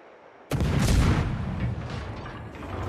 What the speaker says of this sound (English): Alle Stationen, Feuer auf das Ziel konzentrieren.